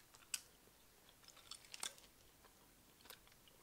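Hair gummies are chewed up close during a taste test, giving quiet, sparse, moist chewing clicks and a couple of soft crunchy bites against a silent background.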